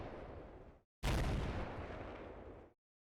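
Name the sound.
mortar fire in Combat Mission: Black Sea video game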